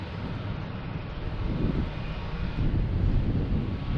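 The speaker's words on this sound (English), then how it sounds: "Lufthansa is pushed back, and most likely heading to the same runway as British Airways 15 right" Lufthansa airliner taxiing toward the runway at Boston's Logan Airport, a steady broadband engine rumble that swells slightly midway, heard from a distance outdoors with some wind, no talk.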